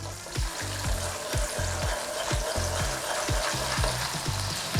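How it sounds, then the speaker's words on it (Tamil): Ginger garlic paste fries in oil, a dense close sizzle with a steady rhythm of spoon strokes knocking and scraping the pan roughly every half second, no talking. "பாருங்கள், இந்த எண்ணெயில் அது நல்லா பொரியுது."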